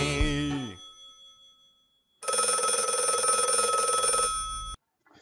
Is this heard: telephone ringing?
yes